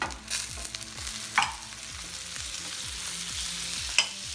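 Butter sizzling in a hot pan just before steak goes in: a steady, close frying hiss with a few light utensil clicks, no voices.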